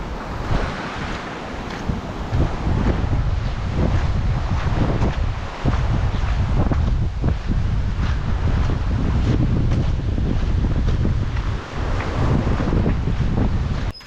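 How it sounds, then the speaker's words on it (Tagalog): Rough sea whipped up by a low-pressure system during the southwest monsoon, with loud waves surging and crashing under strong gusting wind buffeting the microphone, a continuous roar throughout with no talking. "medyo malakas ang dagat namin ngayon gawa ng low pressure"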